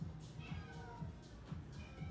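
A house cat yowls in a strained, distressed way, its cries repeating in a loose rhythm of pulses over a steady low background hum, close by and moderately loud.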